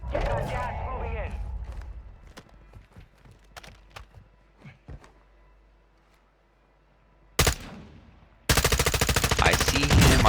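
Bursts of ISO 45 submachine gun fire in Warzone 2, sharp rapid shots early on under a talking voice, a lull, then a loud sustained automatic burst near the end.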